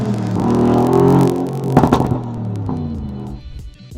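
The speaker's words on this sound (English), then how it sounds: "This is the loudest car I think I've ever driven" A very loud modified Mercedes G-Wagen engine rumbles steadily up close, with a sharp burst of revving near the middle before settling back to a deep idle.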